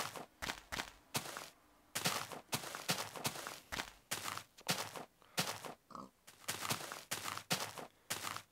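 Pig grunts in Minecraft come in short, rhythmic bursts, mixed with blocky footstep sounds, all fairly close with no talking.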